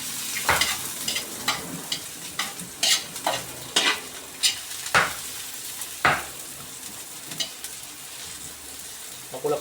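Garlic fries in a little oil in a pan, a steady soft sizzle broken by repeated scraping stirs at an uneven pace, close and fairly quiet.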